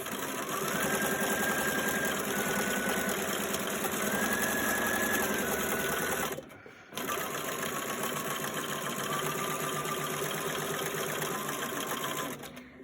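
A sewing machine stitches fabric around the curve of a heart shape for a Valentine's love note envelope, running in a steady continuous whir with a brief pause midway, no talking.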